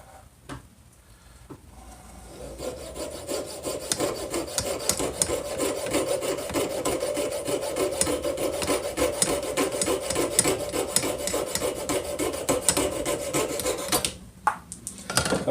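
Handsaw cutting through a piece of wood, a close, rapid rasping stroke sound that starts after a quiet moment, continues steadily for about twelve seconds, pauses briefly, then resumes.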